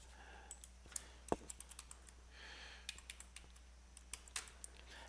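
Quiet clicks and taps of typing on a computer keyboard, irregular keystrokes spread across a few seconds with a steady background hum, no talking.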